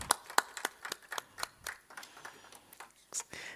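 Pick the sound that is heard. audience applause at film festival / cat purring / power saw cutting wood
audience applause at film festival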